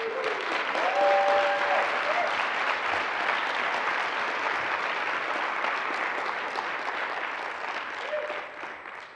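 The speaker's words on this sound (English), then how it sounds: "Let's give all of our presenters a round of applause." A conference audience gives its presenters a round of applause: broad, sustained clapping from a large crowd that holds strong for several seconds, then tapers slightly near the end, with a few faint tonal sounds underneath.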